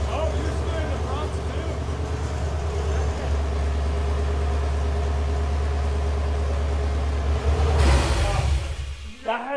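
A huge custom-built off-road wrecker truck's engine idles with a deep, steady rumble that fills the space, with voices talking over it.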